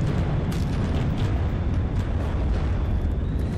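Incoming rockets exploding in the naval combat game From The Depths, a continuous heavy rumbling roar of blasts with scattered sharper bursts, loud and dense throughout with no talk.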